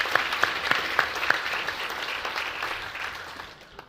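An audience at a university thesis competition applauds, a sustained wash of clapping with a few sharp nearby claps standing out, fading away toward the end.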